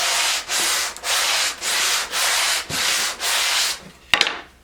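A wooden board is hand-sanded smooth with 150-grit paper: seven steady back-and-forth strokes in an even rasping rhythm, close and fairly loud, ending with a sharp knock.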